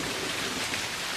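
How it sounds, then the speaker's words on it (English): Steady rain falling, a dense, even hiss of drops that fills the short moment without pause and with no voices. "And this is rain."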